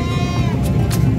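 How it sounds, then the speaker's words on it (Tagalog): Goats bleat close by at a livestock market in San Carlos City, with a drawn-out wavering cry over a dense low crowd murmur and brief rustling noises. "mga kambing ni sir"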